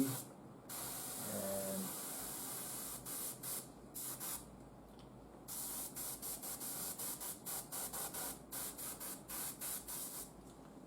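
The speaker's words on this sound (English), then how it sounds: "Once in a while, you need to check on your airbrush how the paint flows." An airbrush sprays paint onto a model Imperial Knight in a steady hiss that keeps breaking into short, rhythmic on-off bursts, close and fairly soft. A brief word is spoken early on.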